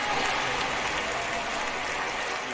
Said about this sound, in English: Crowd starting to get into the game as the rally starts building.